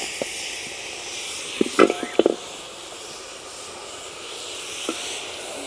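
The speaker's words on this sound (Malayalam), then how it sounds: "ബീഫും അതിൻ്റെ എല്ലും എല്ലാം കൂടി ഇതിനകത്തോട്ട് ഇട്ട് കൊടുക്കാം" Washed beef pieces and bones go into a hot pot for Kerala-style beef soup, giving a steady low hiss with a quick cluster of clunks and knocks as they drop in, then a faint lone tap.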